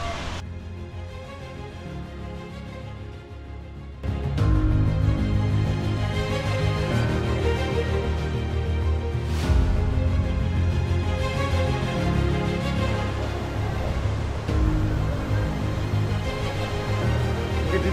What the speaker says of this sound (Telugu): చాలా పై నుంచి పడతాయి వాటర్,